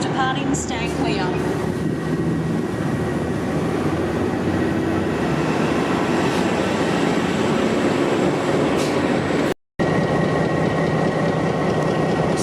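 V/Line train 8775 with locomotives N475 and N465, SSH26 car sets and Y129 departing Geelong station for Melbourne Southern Cross. A loud, steady, broadband rumble runs throughout, with a brief break near the end.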